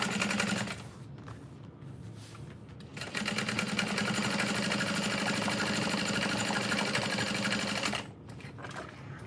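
A sewing machine top stitches across a bucket bag in rapid, rhythmic mechanical chatter, running in two stretches with brief pauses between, close and fairly clear, with no voices.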